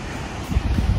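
Rushing water at Sisu waterfall, reached on a road trip toward Surajtaal in the Kullu Manali region, makes a steady broadband roar mixed with gusting wind that swells louder partway through the short moment.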